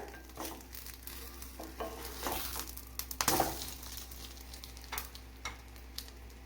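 A bullseye egg sizzles steadily in a pan, with scraping and clinking from a spatula as it is stirred and flipped, including one sharper knock partway through, and no talking.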